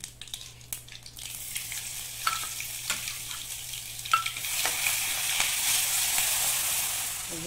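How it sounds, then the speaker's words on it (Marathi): Ground green chillies sizzle in hot oil for tempering, building from scattered crackles and spoon clinks into a steady loud hiss, with stirring taps throughout and no talking. "आणि हे मिक्सरमधनं फिरवलेली मिरची पण आपण यात टाकून देऊया."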